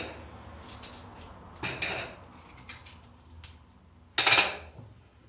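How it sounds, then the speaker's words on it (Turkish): A spoon stirs tarhana soup in a pot with soft scrapes and light metallic clinks, ending in one sharper clatter, heard close and fairly quiet. "Bu arada karıştırayım arkadaşlar hemen topak oluyor."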